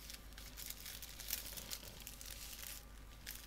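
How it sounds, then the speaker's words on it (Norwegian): A plastic bag is folded and rolled around a seedling, giving a soft, continuous crinkling and rustling that stays close and quiet throughout, with no voices. "Etterpå bretter vi den nederste delen av plastposen og begynner"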